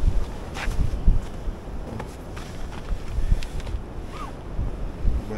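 Wind buffets the microphone at a lakeside during bottom fishing, a low rumbling roar that swells and eases in uneven gusts with no talking.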